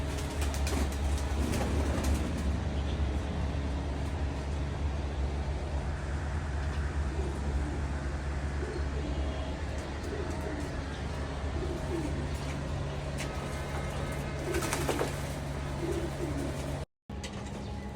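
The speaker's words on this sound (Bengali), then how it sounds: "কবুতরগুলো আসলে গোসল করাইতেছি এই গরমে" Pigeons coo repeatedly in the background while being bathed on a hot day, soft rhythmic calls over a constant low hum and faint spraying or splashing, with brief talk.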